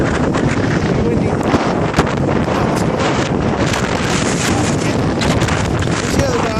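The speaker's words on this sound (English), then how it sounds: "These winds pretty gusty." Strong gusty wind from a 2014 Seattle windstorm roars across the microphone near a rocky shore where waves crash, a loud continuous buffeting rush without pauses.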